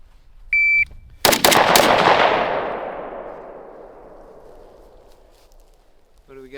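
A 5.56 AK rifle fires a quick burst of loud, close gunshots at a range, preceded by a timer beep and followed by a long fading echo.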